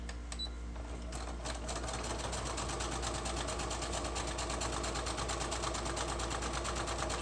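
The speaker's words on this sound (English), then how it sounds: "I love the sewing machine." A pedal-less sewing machine runs steadily, zigzag-stitching along a fabric edge with fast, even mechanical stitching for several seconds, close and continuous with no talking.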